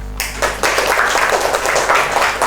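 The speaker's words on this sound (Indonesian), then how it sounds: "Berikan tepuk tangan." A classroom of pupils claps together in a burst of applause that starts after a brief pause and carries on steadily, loud and close.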